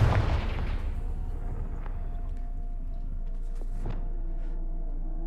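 A Confringo fire spell explosion in the video game Hogwarts Legacy, one heavy booming blast at the start that rolls off into a long low rumble and fades under faint ambient sounds.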